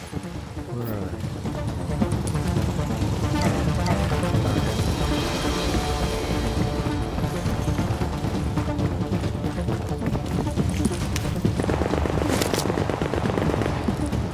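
Rapid automated turret fire in The Division, sustained bursts of gunshots rattling over busy combat noise, loud and near, with players talking throughout.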